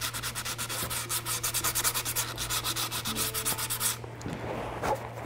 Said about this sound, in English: I'll just show you really quickly, as if you haven't ever seen someone sand before